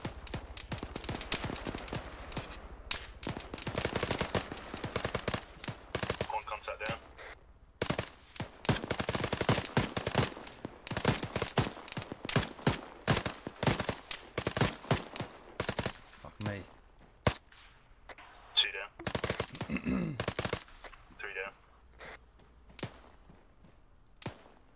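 Gunfire in ArmA 3: rapid, irregular bursts of automatic rifle shots, some close and sharp, others more distant, with brief pauses between volleys and occasional voices.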